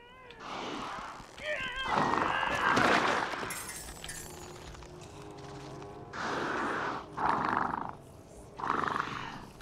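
A cat meows several times indoors, drawn-out and fairly close, with people chatting around it between the cries.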